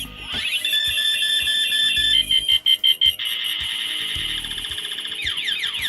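Toy lightsaber sword lighting up with electronic buzzing hum and a sharp electronic ignition tone, then a run of short pulsing zaps and repeated swing effects, loud and close with no talking.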